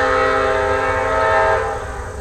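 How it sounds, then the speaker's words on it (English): A passing train sounds its horn loudly and close by, a sustained blaring tone over heavy rumbling rail noise that stays strong throughout and eases slightly near the end. "The train doesn't like me talking."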